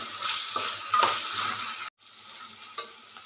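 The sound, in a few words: ivy gourd pieces frying and stirred in a pan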